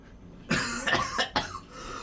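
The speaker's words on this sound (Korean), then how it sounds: "아이스크림 생각만 해도 기침하네" A short burst of coughing close to the mic, several sharp hacks in quick succession, from a teacher during an English grammar lesson in a classroom.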